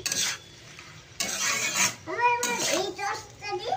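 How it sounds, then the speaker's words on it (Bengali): Chowmein vegetables with green chilies stirred in a pan, scraping bursts of a utensil against the pan over a light sizzle, while a voice talks in the background. "এটা ভালো করে নেড়ে চেড়ে নিচ্ছি।"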